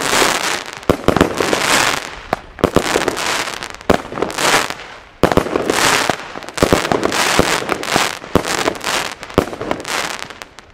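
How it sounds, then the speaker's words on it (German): Fire pot and firework battery going off outdoors on New Year's Eve, a long run of loud crackling bursts and sharp bangs in rapid irregular succession, with no talk. "Den Feuertopf muss man halt weglaufen."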